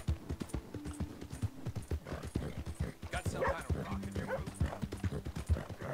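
Galloping horse in Red Dead Redemption 2, riding through a town: rapid rhythmic hoofbeats close by, with occasional snorts, while someone talks over it.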